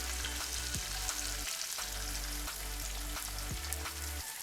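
Chopped onions fry in a hot pan with a loud, continuous close sizzle and crackle, a low steady hum of the stove running underneath throughout.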